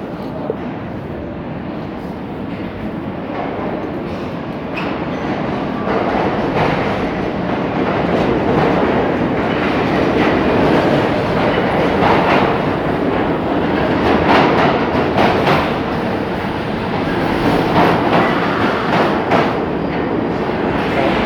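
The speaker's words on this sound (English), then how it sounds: "I gotta wait 4 minutes for the next train." A train passes through a railway platform with a loud, steady rumble and rhythmic clatter of wheels on track for about twenty seconds, with no one speaking.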